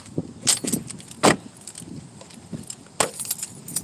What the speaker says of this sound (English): I need the car keys